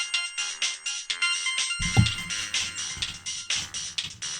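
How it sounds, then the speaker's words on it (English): A bright electronic phone ringtone in Broken Colors plays a repeating chiming melody with quick rhythmic pulses, loud and close. Partway through, a soft shuffling rustle joins underneath. "I suddenly hear my phone ring"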